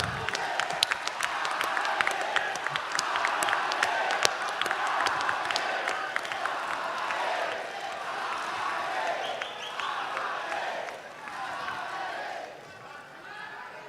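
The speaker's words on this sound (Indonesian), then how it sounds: "Tepuk tangan." A hall full of delegates at the Democratic Party congress in Indonesia breaks into sustained applause with some cheering, loud and dense at first and then gradually thinning out toward the end.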